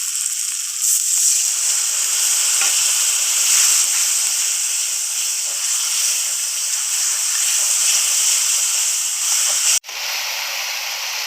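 Water hits Kashmiri chilli powder masala frying in a pan, setting off a loud, steady steaming sizzle and hiss that holds for about ten seconds, then cuts off briefly and resumes.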